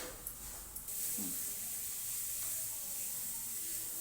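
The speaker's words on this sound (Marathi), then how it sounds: "आता ह्या मिश्रणाला चांगले तेल सुटेपर्यंत तेलात परतून घ्यायचे." Spice masala mixture sautéing in oil produces a soft, continuous sizzle, preceded by a couple of light clicks and a faint thud.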